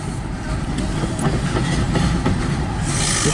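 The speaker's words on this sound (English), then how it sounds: "This train is like literally from Toledo, Ohio, but now it's going to Upper Canada" A CN M384 eastbound freight train hauled by three engines rolls past in Port Huron, Michigan, a loud, continuous rumble with rhythmic clickety-clack from the wheels and a faint hiss.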